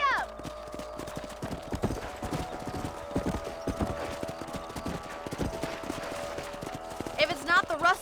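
Horse hooves clip-clop at a steady gallop while riding across the range in Red Dead Redemption, rhythmic and close, with a voice speaking over the hoofbeats and a brief whinny-like cry near the end.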